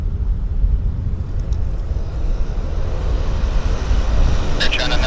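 Airliner of Air China taxiing onto the active runway at Vancouver airport, a steady broad engine rumble and whine holding throughout, fairly loud and continuous with faint higher hiss.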